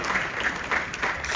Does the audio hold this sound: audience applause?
yes